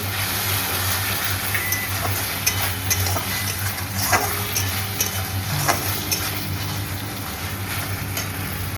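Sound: stirring spices in a pan

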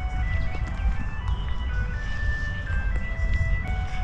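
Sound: ice cream truck driving by

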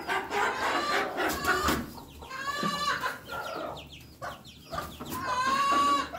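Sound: chickens and rooster in a chicken coop

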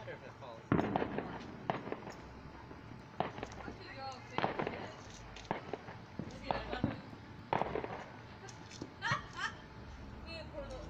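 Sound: fireworks rocket being set off on the 4th of July

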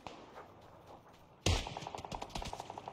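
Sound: gunfire in a shooter video game

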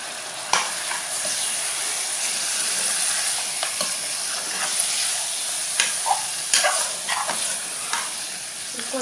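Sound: onion and edible gum being roasted in a pan

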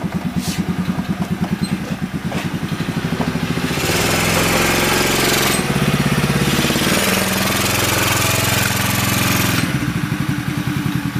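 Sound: 110cc 4-stroke Chinese buggy engine running

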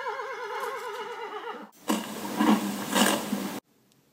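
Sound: horse neighing at feeding time

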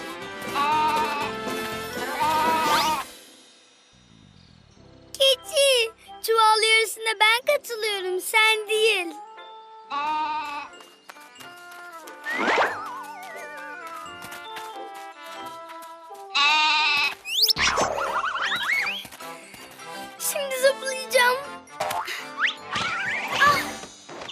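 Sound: goat bleating

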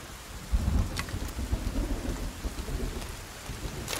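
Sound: rain and thunderstorm in the video game Sons of the Forest

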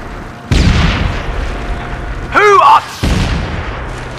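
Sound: frag grenade explosion in SOCOM 4 video game

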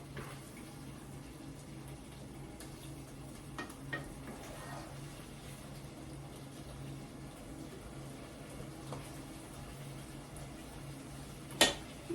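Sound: sautéing minced meat and onion in a pan

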